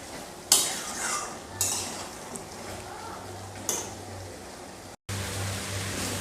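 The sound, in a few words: chicken and potatoes cooking in pan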